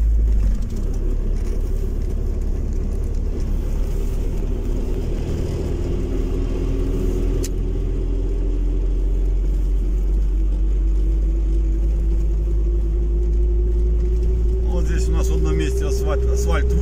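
A car driving along an asphalt country road, recorded from inside: a steady, loud low rumble of engine and tyres, with the engine pitch slowly climbing as it gathers speed.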